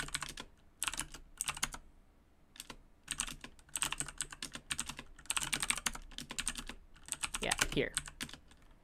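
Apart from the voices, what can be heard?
typing on a computer keyboard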